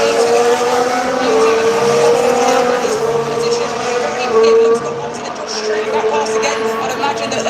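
Formula 1 race cars roar past on track, a sustained high-pitched engine whine that rises and falls as cars pass, loud and continuous, with commentary talk running underneath.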